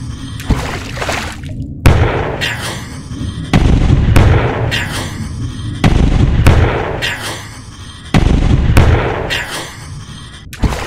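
Battleships explode in the VR naval combat game Salvo Battleships: loud, deep booming blasts repeat at a steady, uneven pace across about five detonations, each with a rumbling tail.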